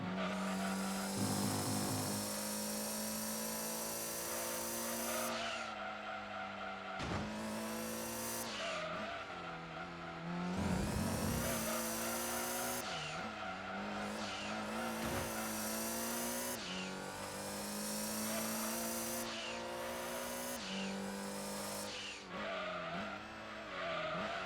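Gran Turismo 2 race car engines whine and rev continuously with repeated gear shifts, while the tires squeal under braking. The sound is loud and close, and no one talks over it.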